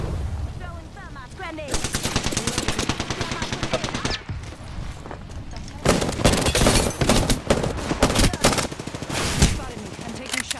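Rapid automatic gunfire in the Apex Legends battle royale shooter, dense bursts of loud shots that stop briefly and then resume, with quieter game sounds between them.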